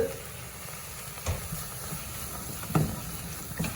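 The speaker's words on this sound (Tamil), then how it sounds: "அடுப்பை நிப்பாட்டி போட்டு இந்த மாசி கருவாடை போட்டுருவோம் அந்த சூட்டுலேயே வந்து" Dried Maldive fish is tipped into a hot pan after the stove is switched off and gives off a soft, low hiss, broken by a few faint clinks and scrapes, with no talking.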